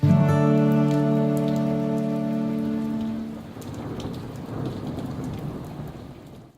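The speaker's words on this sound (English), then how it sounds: "I'm still using that rain effect to this day, actually." Rain effect in a music video: steady heavy rain hiss with thunder-like rumble, starting under a sustained harmonic tone that fades after a few seconds, leaving the rain alone.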